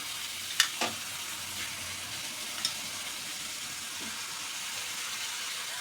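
Soaked Dehradun rice frying with cooked-down spices in a pot, a quiet, steady sizzle with a couple of brief utensil clinks and scrapes early on.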